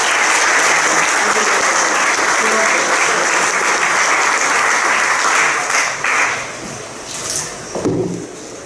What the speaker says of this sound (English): Let's give a round of applause to the whole panel.